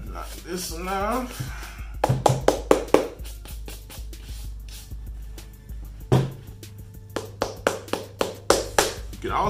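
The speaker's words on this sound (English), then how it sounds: "Knock this one off." Adidas football cleats are knocked together and struck to shake off grass and dirt chunks, making a series of sharp, close knocks in clustered bursts, with someone talking between and over them.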